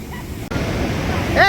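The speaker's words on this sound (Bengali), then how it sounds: "কি বিশাল বড় বড় ঢেউ" Big sea waves at Puri beach make a steady, loud roar of surf, with wind buffeting the microphone and a brief voice near the end.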